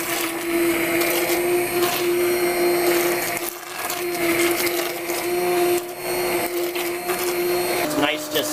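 An immersion blender whirs loudly in a pot of green asparagus soup, a steady high motor drone with brief dips as it works the puree, while a person talks over it.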